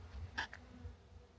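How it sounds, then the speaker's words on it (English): Bees buzzing around blooming apple trees in an orchard, one brief nearby buzz passing over faint outdoor background noise. "I'm not gonna get too close because there's already bees flying around."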